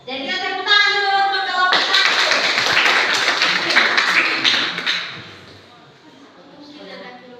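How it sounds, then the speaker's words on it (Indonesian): A classroom of students applauds group 1 in a lively burst of clapping lasting several seconds that fades out at the end, with a teacher's voice speaking before and after it. "Jadi kita tepuk tangan dulu untuk kelompok 1."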